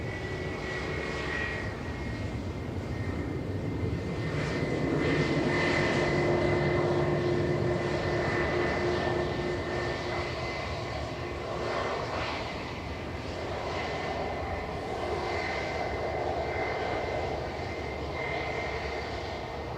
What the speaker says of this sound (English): Ryanair flight 7542 over to Barcelona, departing now, operated by Malta Air 9HVVE. This is a Max 8 200.